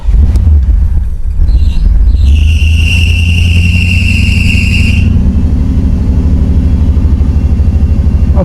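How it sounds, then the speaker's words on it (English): 1984 Chevrolet Camaro Z28 V8 cranking and firing up, then settling into a loud, steady idle with a brief high whine during startup, close to the car. "So, first of all, let's see if the car starts."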